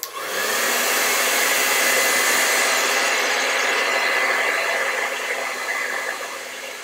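A hair dryer blows hot air over wet paint on a landscape painting, a loud, steady rushing whoosh that runs continuously for several seconds before easing slightly toward the end, with no voices.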